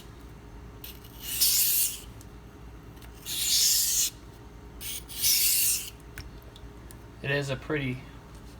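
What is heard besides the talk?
sharpening Spyderco Endura 4 Wharncliffe knife on Pride Abrasives stone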